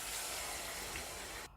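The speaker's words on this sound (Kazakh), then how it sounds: "Оның бетіне 1 литр суды құямыз." Water pours into a hot frying pan holding fried chicken and onion, giving a loud, steady hiss and spray that suddenly stops near the end.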